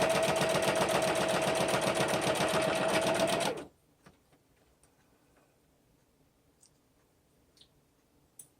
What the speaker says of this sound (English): I'm going to take it to the sewing machine and sew down the side.